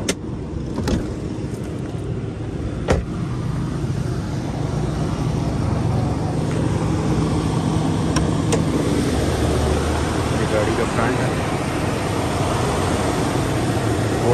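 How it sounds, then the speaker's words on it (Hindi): A steady, low engine rumble from an idling Toyota Verossa with a 2000 cc engine drones continuously, close and fairly loud, with a couple of faint clicks near the start. "ये गाड़ी स्टार्ट है अभी, बिल्कुल साउंड प्रूफ है"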